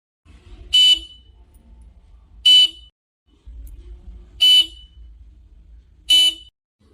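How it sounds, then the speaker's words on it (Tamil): A car horn honks four times at a house door in short, evenly spaced bursts over a low engine rumble, fairly close and loud. "இதாரு வாசல்ல ஹார்ன் அடிக்கிறது?"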